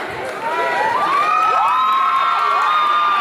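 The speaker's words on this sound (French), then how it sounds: "Un tonnerre d'applaudissements pour la ravissante Mels, s'il vous plaît." Nightclub crowd cheering, whooping and applauding to welcome a female singer at a live show, loud shrill shouts rising over a steady roar of claps and voices.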